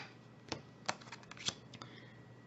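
Lenormand card deck being shuffled by hand, a few soft riffling snaps and papery slides in irregular bursts, close and quiet.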